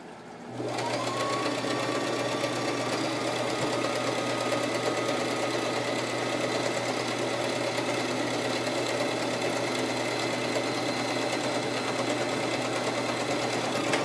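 A sewing machine stitches fabric for a tablet cover, starting after a brief pause and then running in one steady, continuous mechanical whir close by, with no talking.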